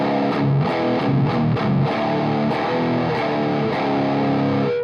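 Heavily distorted electric guitar played through a boosted amp for a deep, dirty classic tone, with chugging chords and sustained notes ringing loudly for the whole stretch and no voices.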